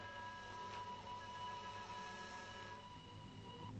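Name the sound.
train approaching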